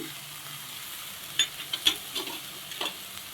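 Mustard and fenugreek seeds fry in oil alongside cut tomato for a village-style chukkakura chutney, a soft low sizzle broken by a few sharp spoon scrapes and clicks against the pan.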